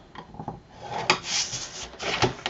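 Cardstock being scored on a scoring board for a snap flipbook album pocket, a few short dry rubbing strokes and light scrapes, close and fairly quiet, no voices.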